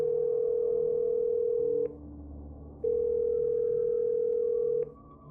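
A telephone ringback tone sounds while a call is being placed: a steady electronic beep held for about two seconds, a one-second pause, then another long tone, clear and alone.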